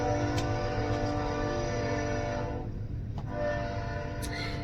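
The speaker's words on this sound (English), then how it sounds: "There's a train going by." A train rolls past with a steady, sustained rumble and drawn-out horn tones that hold throughout and dip slightly in the middle, with no talking over it.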